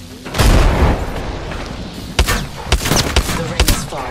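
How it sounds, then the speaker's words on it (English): A frag grenade going off in Apex Legends: a loud, deep blast near the start that rolls out for over a second, followed by several sharp gunshot-like cracks and thuds, with game sounds continuing underneath. "Throwing frag"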